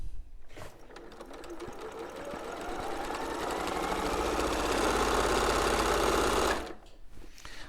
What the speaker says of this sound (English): So let's sew these together, and I'm going to chain piece these.